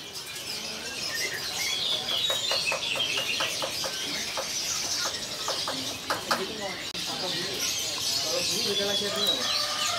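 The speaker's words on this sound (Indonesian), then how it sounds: "Perkutut lokal." Local zebra doves (perkutut) at a bird kiosk give repeated cooing calls amid steady chatter and other birds, with people talking nearby throughout.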